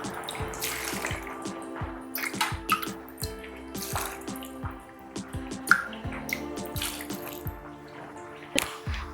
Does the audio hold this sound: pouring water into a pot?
yes